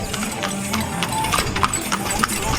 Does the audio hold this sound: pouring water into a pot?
no